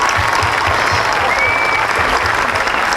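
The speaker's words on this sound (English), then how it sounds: "round of applause, please?" Dense, even audience applause at a concert, loud and continuous with no voices standing out above the clapping.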